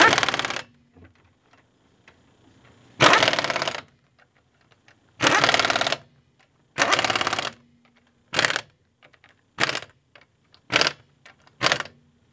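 Impact wrench bursts tightening the front wheel lug nuts on a 2003 Ford Focus SE after a brake job: a series of loud, close rattling buzzes, some long and some short, separated by quiet pauses.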